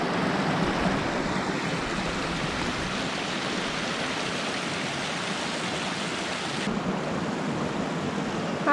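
Flowing water in Wales rushes in a loud, steady broadband roar, like a stream or small waterfall close by, with no talk.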